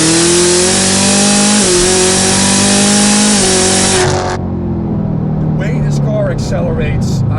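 A 2017 Chevrolet Camaro ZL1 fitted with a Miller Muffler exhaust accelerates hard, a loud raspy engine roar climbing in pitch through quick shifts, then cutting off to quieter background sounds.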